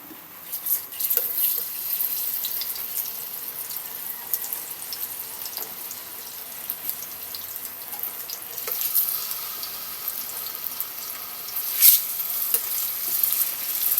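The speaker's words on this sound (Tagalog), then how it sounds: "Tapos ipa-fry muna natin tong tokwa." Tofu frying in oil for tokwa con ampalaya, a steady close sizzle with scattered sharp pops and spatters rising above it, continuous throughout and free of talk.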